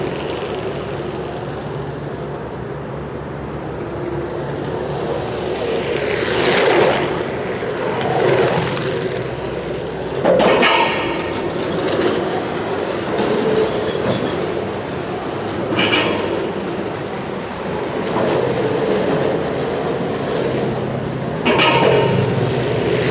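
WowGo 3 electric skateboard rolling along steadily, a continuous broadband road rumble with motor whine and periodic swells as it passes over bumps, fairly close and with no talking.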